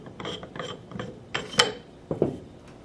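A Tippmann Carver One paintball marker's barrel being unscrewed by hand: a few short, close ratcheting scrapes and rubbing clicks in quick succession, with a sharper click near the end.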